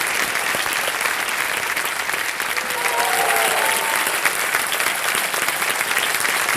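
Loud, continuous applause from a studio audience on a Hindi game show as a cash prize is presented, even and dense throughout with no voices over it.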